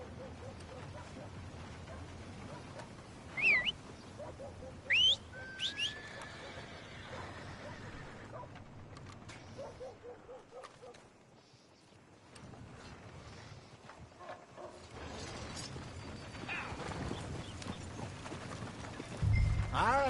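In a video game, a horse whinnies in sharp bursts while hooves clip-clop along, with clattering footfalls and ambient rumble underneath; brief game voices are heard.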